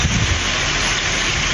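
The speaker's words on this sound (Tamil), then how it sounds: "வேலூரில் கடந்த சில நாட்களாக 100 டிகிரி ஃபாரன்ஹீட்டிற்கு மேலாக வெயில் வாட்டி வதைத்த நிலையில் திடீரென மழை பெய்தது" A sudden rain shower in Vellore, Tamil Nadu, falls after days of intense heat, a loud, dense, continuous hiss of rainfall with no voices.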